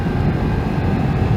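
A 2020 BMW F900XR motorcycle engine holds a steady, loud, low drone at elevated revs, sustained without a break.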